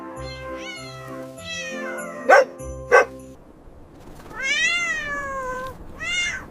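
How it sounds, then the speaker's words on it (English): A white house cat meows at home on Christmas morning, two drawn-out, wavering meows near the end, preceded by two short, sharp dog barks over soft background music. "Look at the cat."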